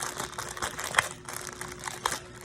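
Crinkling and rustling of packaging being opened around a Smith & Wesson 40F spring pellet gun, with irregular close crackles and a couple of sharper snaps, and no talking.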